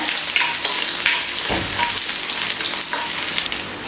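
Cut raw plantain pieces fry in hot oil with a steady, loud sizzle and crackle, broken by a few stirring scrapes, bubbling continuously as they turn light brown for a fishless curry.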